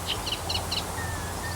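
Four short, high chirping bursts repeat in quick succession from a sedge warbler's alarm call, fairly faint over a low background rumble, followed by a thin whistle.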